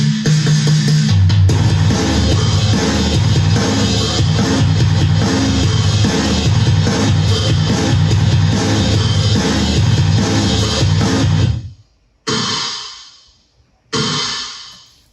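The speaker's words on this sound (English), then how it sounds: "So then I brought out another drum kit and I went to work, and those drums sound like this." Loud drum kit beat with punchy kick and reverb-drenched snare from a self-produced song, playing continuously before cutting out, then returning in two short bursts that fade.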